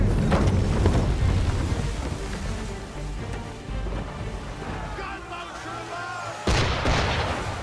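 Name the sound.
ship cannon fire in video game Assassin's Creed III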